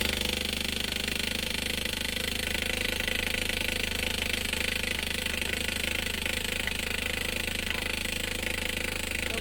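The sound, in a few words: boat engine starting and running after repair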